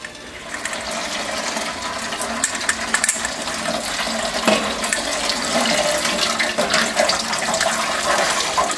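A bag of steeped grains lifted out of a pot of hot brewing water for a gruit ale, water pouring and dripping back in a steady, continuous splash that grows slightly fuller.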